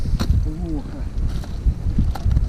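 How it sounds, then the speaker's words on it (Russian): Strong, gusty wind buffets the microphone on late-March ice during a thaw while fishing for pike with tip-ups, a low roaring rumble that persists under nearby voices. "Ух и ветер."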